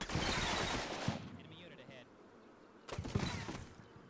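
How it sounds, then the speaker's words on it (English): PKM machine gun in a combat video game, opening up in two loud, dense bursts of rapid fire separated by a short lull, with a voice talking over the shooting. "Then the PKM on the school opens up at Corporal Finlay."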